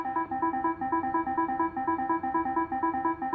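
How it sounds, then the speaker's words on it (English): A robot's proximity alarm: a rapid, repeating two-tone electronic beeping, even and insistent, fairly quiet and steady throughout. "You can hear the alarm going off"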